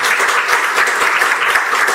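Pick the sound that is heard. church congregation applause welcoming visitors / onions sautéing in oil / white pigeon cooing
church congregation applause welcoming visitors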